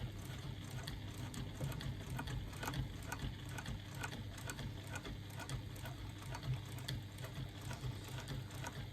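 A sewing machine runs steadily while quilting, giving a continuous rapid mechanical clatter of stitching with no pauses and no voices.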